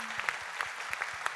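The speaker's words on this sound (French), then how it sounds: "Et je veux vraiment qu'on les applaudisse très très fort" An audience at a results plenary claps, a brief burst of dense, steady applause from many hands at moderate distance.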